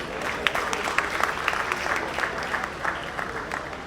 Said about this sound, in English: A round of applause for them, ladies and gentlemen.